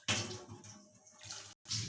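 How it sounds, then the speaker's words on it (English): Water pours into a pan of onions, turmeric, mustard seed and green chili paste for a small punti fish curry. The splashing is short and close, with a brief break. "Add some water."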